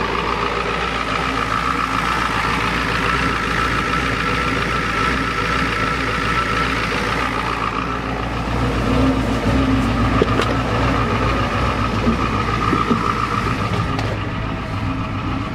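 A 1993 Ford F-250 XLT with a 7.3L IDI diesel idles after a cold start, making a loud, steady, unbroken rumble up close throughout with no talking.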